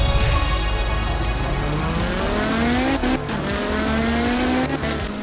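Rally car engine in Art of Rally during a wet-weather stage, revving hard and loud with rising gear pulls, a brief dip near the three-second mark, steady and close throughout with no talk.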